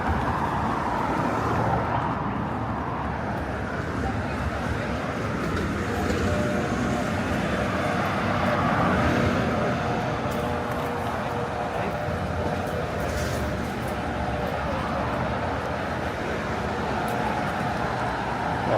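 Continuous traffic rumble on a Toronto street around Don Mills and Eglinton, with cars passing close by in a steady, loud wash of road and engine noise.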